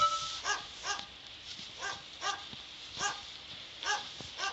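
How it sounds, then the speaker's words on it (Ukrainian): A dog barks repeatedly at close range, the sharp barks coming in a loose rhythm of about one or two per second, with no one talking. "Та закрийся ти вже та собака."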